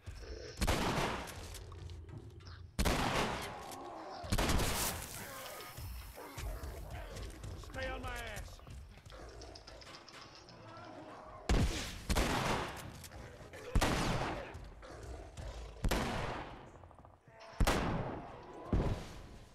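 Repeated bursts of gunfire from The Last of Us fighting a Bloater, loud broadband blasts in irregular clusters with pauses, mixed with game creature and effect sounds underneath.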